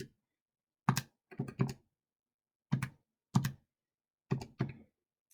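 Keys pressed on a calculator: about eight crisp, close taps spaced out in small clusters, with silence between them.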